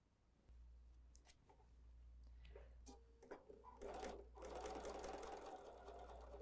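A sewing machine stitches a quarter-inch seam on a courthouse steps quilted hot pad, starting with scattered handling clicks and then running steadily and close by over a constant low hum, growing louder and denser toward the end.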